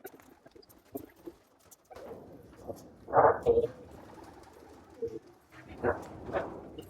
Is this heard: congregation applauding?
no